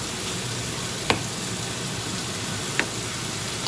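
Mushrooms sizzle in a hot frying pan, a steady close crackling hiss broken by a couple of sharp clicks, with no talking.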